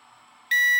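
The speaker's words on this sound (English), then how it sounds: "She'll beep when it's ready." Quiet hum gives way to a sudden loud electronic beep from a ZZL Beast Pro 2 drone signalling it is ready, a steady high tone that holds to the end.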